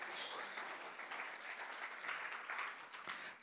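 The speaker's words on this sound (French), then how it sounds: "Est-ce qu'on peut applaudir les personnes qui m'ont rejoint?" A church congregation applauds after a hymn, a steady dense clapping that carries evenly for several seconds without voices.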